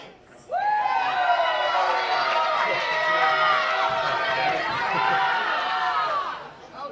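A crowd at a junior nationals match bursts into loud, sustained cheering and excited shouting that swells suddenly, holds for several seconds, then fades away.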